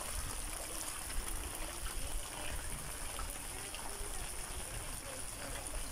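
Floodwater rushes steadily through a flooded city street in Las Piñas after heavy rain, a continuous close broadband wash with a faint trickling texture and no clear voices.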